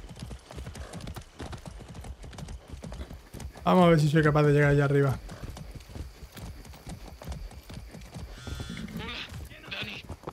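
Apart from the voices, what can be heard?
horse hooves clip-clopping in the video game Far Cry 6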